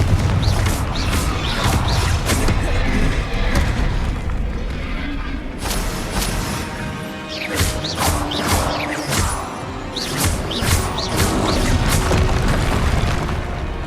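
Confringo, an explosive fire spell, goes off during Hogwarts Legacy combat, giving loud repeated booms and crashing blasts over continuous battle noise.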